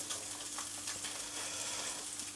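A soy sauce mixture sizzles and crackles steadily in a hot pan as it is stirred, faint and continuous with no talking.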